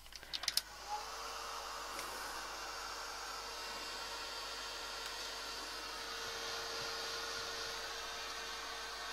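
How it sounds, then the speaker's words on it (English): Steady hair dryer blowing over a stencil to push it down, a continuous broadband whoosh running the whole time after a few brief clicks and knocks at the start, with no talking. "I'm just trying to push it down a bit with the dryer."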